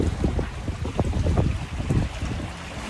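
Gentle wind blowing across a sailing yacht at sea in Greece, a steady close rush of air with soft gusts buffeting the microphone and a faint wash of water underneath.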